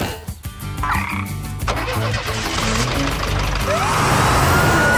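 A cartoon frog gives loud, close croaks over background sounds of a vehicle engine revving, and a whooshing effect rises toward the end.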